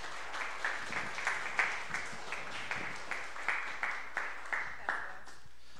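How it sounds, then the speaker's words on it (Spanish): Applause from the audience at the end of a Spanish-language conference comes through as a thin, steady patter of claps in a regular rhythm, moderately faint, from what sounds like a small room. "Un aplauso, por favor."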